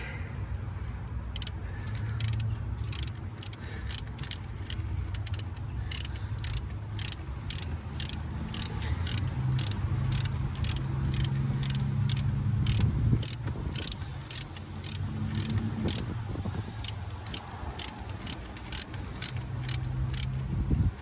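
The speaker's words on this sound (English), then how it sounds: "I'm gonna flip it around so that it's on tighten. Pop the socket over it." A socket ratchet tightens a spark plug on a Jeep Wrangler TJ, giving a long run of rapid, regular clicks close up that pause briefly and then resume, with a low background hum and no talking.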